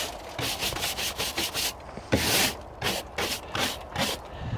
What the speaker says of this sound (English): I'm just going to give it a good scrub